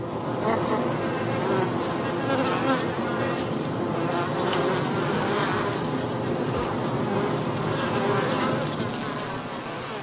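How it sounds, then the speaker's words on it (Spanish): A dense swarm of bees buzzes loudly and steadily as scouts vibrate their wings, a continuous close drone without pause. "Las componentes de la avanzadilla recorren el enjambre haciendo vibrar sus alas."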